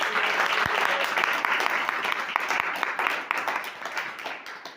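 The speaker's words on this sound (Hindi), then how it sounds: "एक बार जोरदार तालियां परमेश्वर के।" Loud, dense applause from a church congregation after a call to clap for God, sustained for several seconds before gradually thinning, with a few sharp louder claps standing out.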